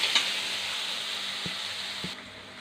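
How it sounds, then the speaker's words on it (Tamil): Onions sautéing in a pan with a green chilli and popped mustard seeds, a steady close sizzle with a couple of light utensil taps, ending in a slightly quieter hiss. "வெங்காயம் நல்லா வதங்கணும்."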